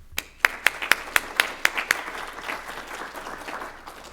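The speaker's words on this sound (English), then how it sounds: "let's give a great round of applause to our community sponsor" Audience applause for a community sponsor at a Surrey Board of Trade event begins with a few loud, evenly spaced single claps, then swells into a softer, continuous round of clapping from the crowd.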